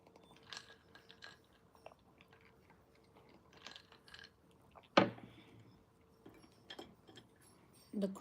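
Crunchy chewing of BBQ jerk 'chicken' pizza, a few soft, close bites and a sharper crunch midway, quiet and alone with no talk.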